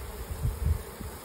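Honey bees buzzing around a possum box as combs are cut out and peeled away, a low, close hum that swells briefly in the middle and then settles.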